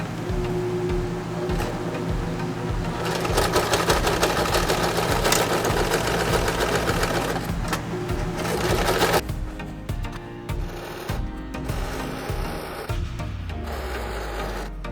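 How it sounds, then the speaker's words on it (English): Sewing machine stitching a waterproof fabric cover for a hunting stand cushion, a continuous close whir for several seconds, then stopping and starting in shorter runs with handling noises. "I have one side left that I'm going to sew with the machine."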